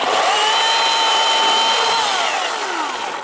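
A chainsaw cuts through a big log outdoors, held one-handed, its high motor whine steady and loud before sagging in pitch as the cut finishes and the engine winds down.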